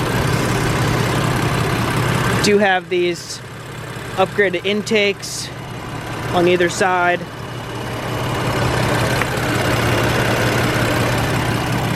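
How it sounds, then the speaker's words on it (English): A tuned 525 hp BMW F80 M3 with upgraded intakes idles with a steady low drone, and someone talks over it in short bursts. "And you can really hear those intakes when you're getting on it, just all that air."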